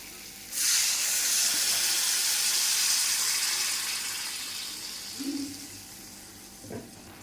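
Water is poured into a pan holding cumin powder and fried bitter gourd for a Bengali foli fish dish, a close, rushing splash that builds quickly, holds for several seconds, then fades, followed by a couple of soft knocks.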